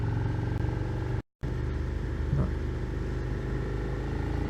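Suzuki SV650 motorcycle engine while riding: a steady, loud rumbling drone from the twin with wind noise, briefly cut out for a moment, then continuing at an even pace.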